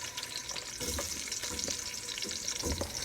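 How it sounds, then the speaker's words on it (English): Onion sizzling and frying in hot oil in a pot as the start of a beef bone broth, a steady close crackle with a few stirring scrapes and no talk. "To start, I'm going to add in my onion."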